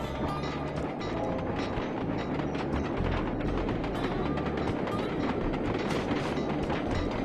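A fast-moving train in the video game Sly 2 gives a steady, loud rumbling roar with rhythmic clickety-clack of wheels on rails, continuous and close throughout, with no talking.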